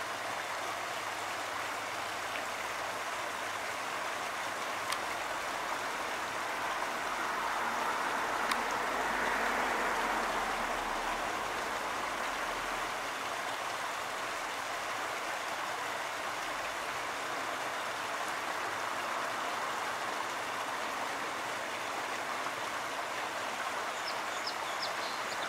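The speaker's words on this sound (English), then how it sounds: "There's the lower stream waterfall." A lower stream waterfall rushes steadily in an outdoor bird habitat, a continuous broadband wash of flowing water with faint distant bird calls mixed in.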